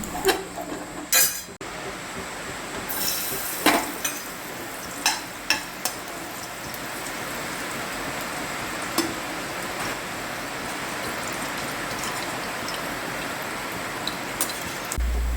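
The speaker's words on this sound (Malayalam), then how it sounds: "ഇതിലേക്ക് തന്നെ കുറച്ച് മുന്തിരി ഇട്ട് അതും കൂടി നമുക്ക് വറുത്ത് പാരണം" Raisins frying in hot ghee for a jackfruit seed payasam, a steady close sizzle with a few sharp stirring clicks and scrapes of a spoon in the pan, alone without talk.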